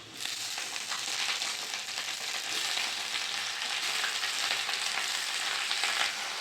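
Potatoes, radish and chopped spring onion greens fry in a pan with a steady close sizzle and occasional stirring scrapes, continuous and even throughout with no voices.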